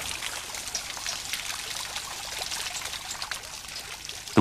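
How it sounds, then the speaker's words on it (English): Water trickles and pours steadily in a handmade water clock driving its escapement wheel, a soft continuous flow with faint splashes. "The water acts like the weight on the church clock, pushing the escapement wheel round"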